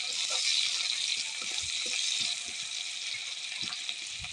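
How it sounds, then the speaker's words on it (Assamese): Onions, garlic and ginger sizzle steadily in a hot pan while being fried together, with a constant close hiss and small crackles and stirring knocks throughout. "সেইখিনি একেলগে ভাজি ল'ম।"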